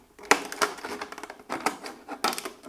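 Scissors snip through a cut plastic PET bottle being shaped into a planter, giving a few sharp, crackly cuts in an uneven rhythm, close and fairly loud with no talking.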